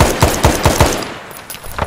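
Bursts of automatic gunfire from the Arma 3 SOG Prairie Fire video game, five quick rounds in a steady rhythm at moderate distance, then a pause before a few scattered shots follow.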